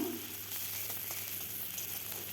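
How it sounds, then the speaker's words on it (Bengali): Chopped onions and green chilies hit the hot oil left from frying small fish for a curry, giving a close, steady, even sizzle with no talking. "মাছ ভাজার তেলে আরেকটু তেল দিয়ে দিলাম আমি পেঁয়াজ কাঁচা লঙ্কা দিয়ে দিলাম"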